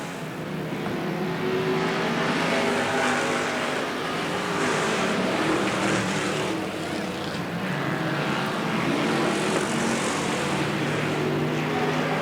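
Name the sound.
Sportsman race cars racing at Riverside Speedway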